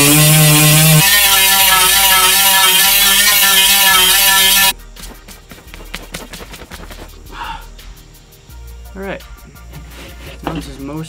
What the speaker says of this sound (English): take it down to the bare plastic. For that, got a Dremel,